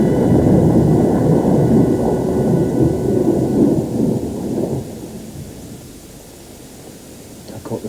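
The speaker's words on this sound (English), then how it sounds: "I think there must be a storm brewing." Thunder from a brewing storm rolls in loud and low, a long rumble with rain hiss that gradually fades over several seconds, with no voices.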